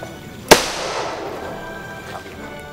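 A sharp, loud explosive blast detonated on a Tamil feature film set, one sudden burst followed by a long fading rumble and crackle, with no speech over it.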